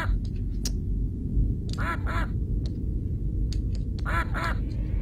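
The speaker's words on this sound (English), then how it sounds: "Quack." A duck in a video game quacks in two quick paired bursts, then again a couple of seconds later, loud and close over a low rumbling background.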